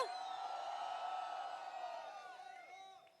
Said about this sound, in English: Let's give him another round of applause for being here.